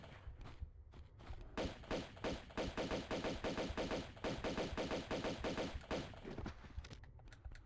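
Game gunfire from Tomb Raider II Remaster rattles out in rapid, evenly spaced bursts of pistol shots, close and punchy, pausing briefly before a long sustained volley that stops near the end.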